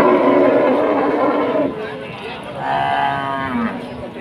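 Cattle, cows with calves, moo loudly and close by at a muddy livestock market, several drawn-out lowing calls overlapping with a murmur of people talking in the background.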